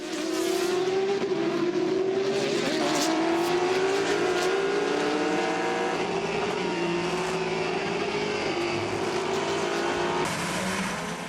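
The number 99 Aston Martin race car, driven by Fred Makowiecki, roars around Circuit of the Americas during the six-hour endurance race, engine note rising and falling through gear changes as other cars pass, loud and continuous.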